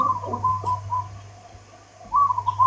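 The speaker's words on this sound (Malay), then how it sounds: "Kenapa awak bersiul?" A steady, tuneful whistle around a single pitch, wavering and pausing, then resuming, over a low constant hum in a quiet room.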